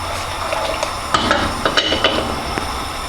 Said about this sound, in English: We add the pasta and we just give this one stir just to make sure that it hasn't stuck together.